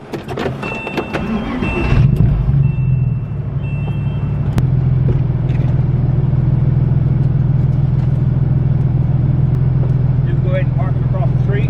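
An old Porsche engine cranks and starts, then settles into a loud, steady low idle rumble while people talk faintly nearby.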